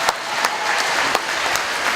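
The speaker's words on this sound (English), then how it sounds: "give me a round of applause" Brief burst of audience applause at a children's Christmas science show, dense clapping from a room full of people with a few sharper claps standing out.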